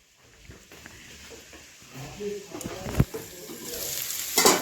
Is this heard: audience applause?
no